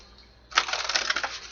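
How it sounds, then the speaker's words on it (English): Tarot cards are riffled in a short burst of crisp rapid flutter lasting about a second, close and moderately loud after a near-silent start, with no voices. "One more shuffle."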